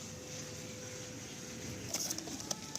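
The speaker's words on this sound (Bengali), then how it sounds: "এই পায়রা দুটো ছেড়ে দিচ্ছেন" Soft pigeon cooing murmurs low under a steady background hum, with a few sharp clicks and flutters near the end.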